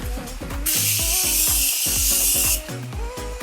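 A facial mist bottle sprays one long, loud, close hiss lasting about two seconds, with soft music playing underneath throughout.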